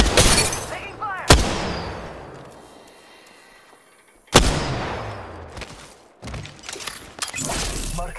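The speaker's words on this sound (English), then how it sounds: "Taking fire!" Gunfire in a ranked shooter video game: two heavy, sharp shots several seconds apart, each ringing out with a long decaying tail, followed by a cluster of quicker, closer cracks near the end amid game noise.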